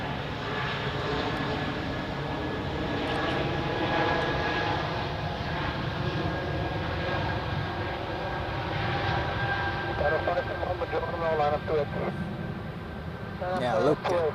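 Etihad Airways airliner on runway 28 at Zurich Airport, a continuous jet engine roar with a steady whine, joined by radio-style voices talking over it in the later seconds.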